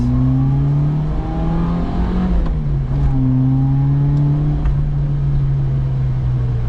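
Subaru Sambar kei van with a Clover 4 four-cylinder engine, revving steadily with rising and falling pitch, close and loud, no talking.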